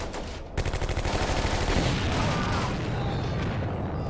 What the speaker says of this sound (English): When you hear an explosion like that in this game